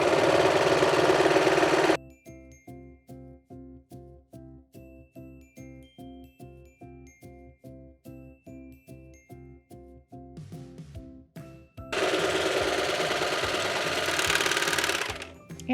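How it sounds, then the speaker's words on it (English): A serger overlock machine finishing the fabric edges of a dress bodice and skirt, starting with a fast continuous whir, slowing to a rhythmic mechanical stitching pulse, then speeding back up into a loud steady run. "I'm going to be serging all of my edges of the bodice and the skirt"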